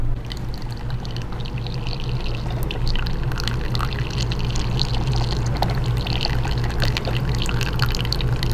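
Steady rushing and splashing of running tap water pours continuously and loudly, close by, with no voices.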